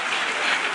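Audience applause at a lecture in defense of the Andalusian accent, a steady dense wash of clapping from a crowd filling the short moment without any voices.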